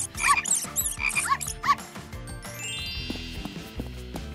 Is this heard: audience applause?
no